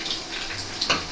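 Melted butter poured into a bowl of food while cooking, a soft liquid trickle with a brief splashy burst near the end, close and fairly quiet.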